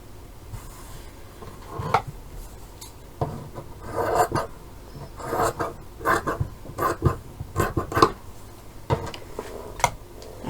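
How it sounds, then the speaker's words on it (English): Scissors trimming excess fabric from bunting, producing irregular close snips and rustling cloth scrapes in short clusters, fairly soft against a quiet room. "I can trim off this excess"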